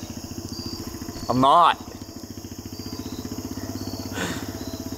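Dirt bike motorcycle ridden on a track, its engine buzzing steadily in the distance beneath a brief spoken remark, with a rougher rev swelling midway.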